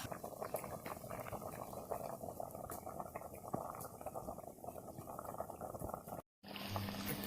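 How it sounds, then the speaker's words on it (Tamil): Egg curry seasoned with rock salt simmers in a lidded pot, giving a steady, close bubbling that continues throughout, with a brief silent gap near the end. "குழம்பு நல்லா கொதிச்சிருச்சு"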